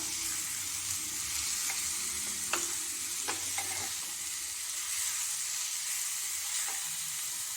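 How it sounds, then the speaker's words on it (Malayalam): Taro stem avial with curd being stirred in a pan: a soft, steady sizzle runs throughout, with scattered light clicks and scrapes of the spoon against the pan, fairly quiet and close. "എന്നിട്ട് നമുക്കിതൊന്ന് എല്ലാം കൂടി ഇളക്കി കൊടുക്കാം"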